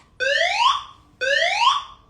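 Two identical rising electronic fire alarm tones during a fire alarm test, each sweeping upward for about a second with a short gap between, loud and clear with no talk over them.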